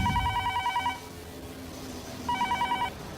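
A telephone rings close by in two bursts of rapid electronic trilling separated by a short pause, heard in a Hindi crime drama scene.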